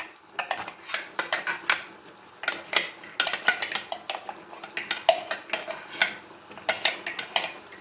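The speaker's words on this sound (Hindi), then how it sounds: "इस टाइम पे आके हम इसमें अब ये डालेंगे प्याज" A metal spoon stirs and scrapes in a pot as onions go into a degi-style aloo gosht, giving close, busy, irregular clinks and scrapes with no talk.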